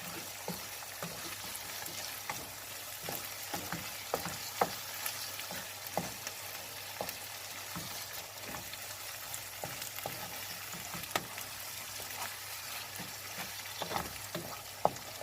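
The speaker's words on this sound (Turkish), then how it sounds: "Ve kavurmaya devam ediyoruz" Meat and tomatoes sizzle steadily in a hot pan, with scattered crackles and occasional scraping stirs, quiet and close.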